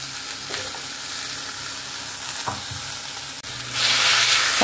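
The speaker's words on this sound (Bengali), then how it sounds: "এই সব দেখো একটু ফ্রাই করছি, পেঁয়াজগুলো দেখো গোল্ডেন হয়ে যাচ্ছে" Onions turning golden in hot oil with chicken pieces added to the pan, giving a constant close sizzle with occasional stirring scrapes, swelling to a louder, brighter frying hiss near the end.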